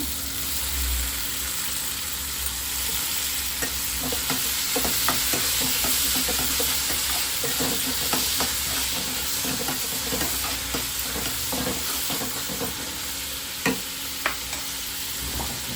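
Tomatoes roast in hot oil for hotel-style puri sagu, giving a continuous loud sizzle broken by repeated scraping clicks of a spoon stirring the pan, with no talk.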